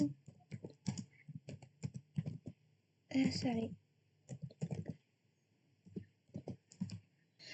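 Quick keyboard typing clatters in short irregular bursts while someone speaks over the keystrokes in a quiet room.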